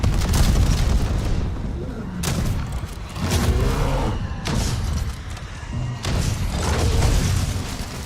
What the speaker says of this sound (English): Just a grenade set.